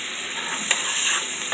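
Shrimp pasta sauce sizzling loudly in a hot pan while being stirred, a steady close hiss with faint scraping strokes.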